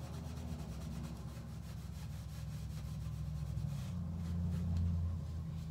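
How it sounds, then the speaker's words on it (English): A rag wipes glaze across a wooden furniture sample board in a soft, repeated rubbing rhythm. The sound is quiet and close, with a low steady hum underneath. "And you just keep wiping and wiping away until you get the desired look that you want."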